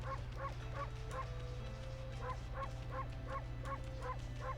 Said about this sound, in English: You gotta love when they got a bark button in the dog game.